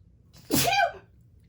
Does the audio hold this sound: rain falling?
no